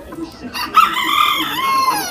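A Modern Game rooster crows loudly and close, a long strained call, with clucking and noise around it at a flea market in Canton, Texas.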